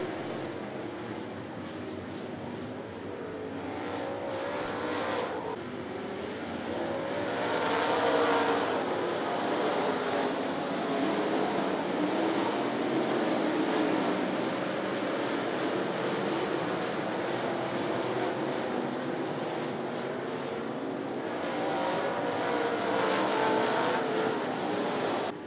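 Sportsman Division race cars circling a raceway track, a continuous distant engine roar that swells and fades as the field passes, with no voices over it.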